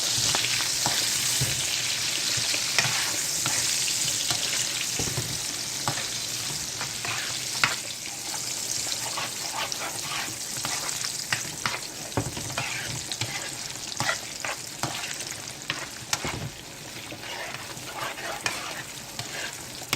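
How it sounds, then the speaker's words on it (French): Tomato paste and half an orange bell pepper fry in a pan with a steady broad sizzle, while a spoon stirs and scrapes in frequent clicks and swishes throughout, close and fairly loud with no talking. "Comme ça, on fait bien cuire les pâtes de tomates. On brasse bien."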